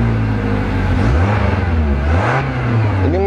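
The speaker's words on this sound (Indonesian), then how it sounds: "mesinnya masih enak, dan untuk maticnya pun ini benar-benar masih responsif" An automatic car's engine revving up and settling back, loud and close, with rising and falling engine pitch and a steady mechanical whir, no voices.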